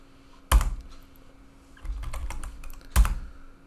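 Typing on a computer keyboard: two sharp, loud keystrokes with a quick cluster of softer taps between them, close and clear with no voices.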